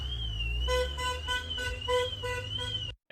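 A car horn sounds a run of short, evenly spaced honks over a low, steady engine rumble, loud and close, ending abruptly.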